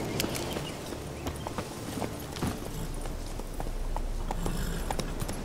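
Horse hooves clip-clop steadily at a quick pace in The Witcher 3, a continuous run of hoof strikes over game ambience with no talk.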